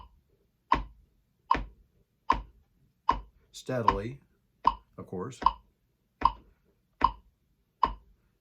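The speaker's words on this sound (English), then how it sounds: "just listen to the beat of the metronome and try to tap your foot to it" Metronome ticks at a steady, even beat, about ten clean clicks spaced evenly and close up, with a voice speaking briefly between two of the ticks.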